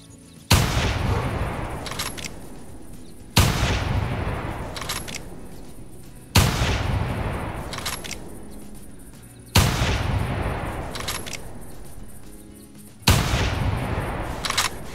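Rifle shots during a feral hog hunt in the video game theHunter: Classic, five loud, sharp reports spaced about three seconds apart, each followed by a long rolling echo that fades before the next shot.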